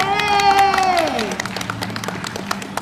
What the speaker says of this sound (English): Martha Page, let's keep clapping